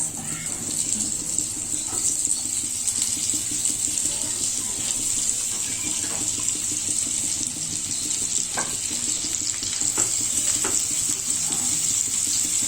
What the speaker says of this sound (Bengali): আমি আরেকটু তেল দিচ্ছি, দিয়ে দিচ্ছি পেঁয়াজ